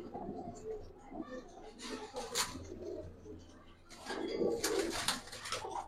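Giribaz pigeons coo softly in a household loft, with low, murmuring calls in short bursts and some quiet human talk and rustling nearby.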